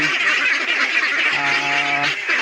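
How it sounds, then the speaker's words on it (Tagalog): A flock of farm ducks clamours loudly while being fed bran and banana trunk, dense overlapping quacks and honks, with one drawn-out call standing out near the middle. "Ngayon po ay mga po tayo nagpakain ng ating alagang itik"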